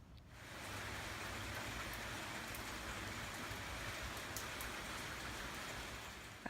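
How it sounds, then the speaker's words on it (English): Rain falls steadily outside, a soft, even hiss of drops that swells in within the first second and holds unbroken, fairly faint and distant with no voices. "And the rain is back."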